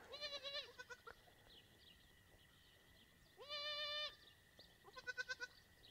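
Goats bleat on a farm, with a young kid among them: several loud, close, wavering bleats come in separate bursts, one long sustained call and a quick stuttering run of calls, over quiet outdoor background with no talk.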